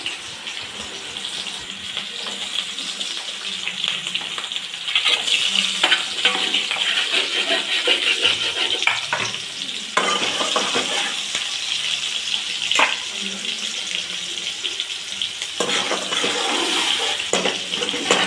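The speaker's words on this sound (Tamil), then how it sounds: "சின்ன வெங்காயத்தை நல்லா வதக்கி விட்டுக்கணும்" Small onions sauté with tempered spices in a pan for a Tamil chicken kulambu: a continuous hiss and sizzle with occasional stirring scrapes and clinks, fairly loud and close, with no talking.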